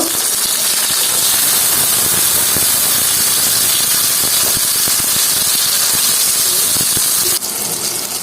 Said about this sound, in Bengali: এই যে এভাবে গোল গোল করে নিয়েছি এটা এখন ভেজে নেব